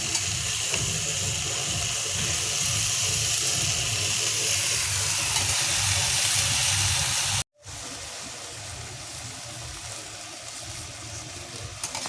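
Water is poured steadily onto a tree at night, making a continuous splashing hiss that runs close and loud with a brief break partway through.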